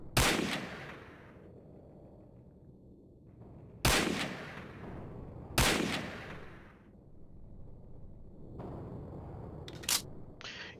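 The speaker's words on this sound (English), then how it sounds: "I can't take 10 steps anywhere without another machine gun or sniper or another cannoneer shooting at me." Sharp, loud rifle cracks ring out in the war game Hidden & Dangerous, several isolated shots seconds apart with decaying echoes, then a couple of quicker reports near the end.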